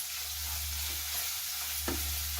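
Bitter gourd (karela) fry sizzles steadily in a pan, with a low hum underneath and a single scraping stir of the spatula near the end.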